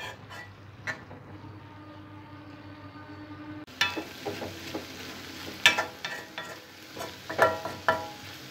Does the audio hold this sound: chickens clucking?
no